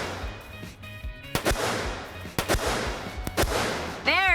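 Sharp gunshots from a Smith & Wesson M&P 22 Compact polymer-frame handgun, several cracks at uneven intervals, fairly close, over a low steady background hum.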